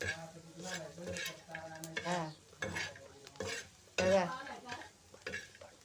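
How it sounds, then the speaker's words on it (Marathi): Drumstick pod curry with turmeric and coriander being stirred in a pan, repeated scraping and clattering strokes of a spoon in uneven bursts over a soft sizzle, close and clear with no talking. "असं परतून घ्यायचं चांगलं"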